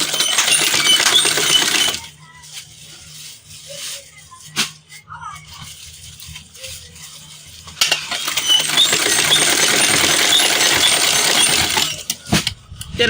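A sewing machine runs in two long bursts stitching a half-inch seam along a fabric edge of an off-shoulder crop top, loud and steady with a quieter pause of handling noises between them.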